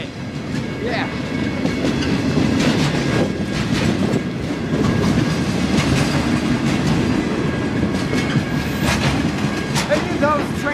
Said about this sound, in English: It's a maintenance of way train.